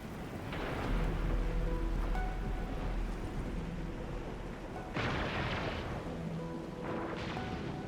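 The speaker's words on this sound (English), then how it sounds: "It's raining harder. I can't hear anything except for the rain." Steady heavy rain pours in the Arknights Endfield video game, a dense continuous wash with a few louder bursts and low rumbles layered through it, no voices.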